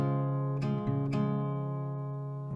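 Acoustic guitar playing a short passage from a song: a few plucked notes ring out over a sustained low bass tone, soft and close, fading gently.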